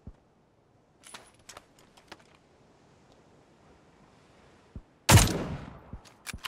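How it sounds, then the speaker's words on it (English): Enemy firing a gun in short taps in PUBG: several sharp, distant cracks spread out over a quiet stretch, then a single loud, close shot followed by a few further faint shots. "I hear him tap firing."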